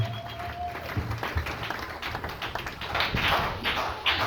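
A church congregation claps and cheers for the Lord, uneven bursts of applause and crowd noise at moderate distance, rising toward the end.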